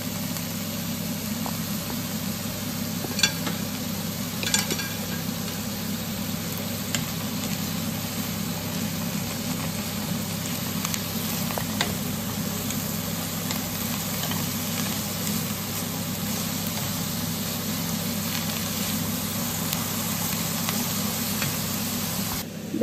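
Onion and garlic fry in a pan with a steady, dense sizzling hiss over a low hum, continuous and fairly loud, broken by a few faint clicks, with no voices.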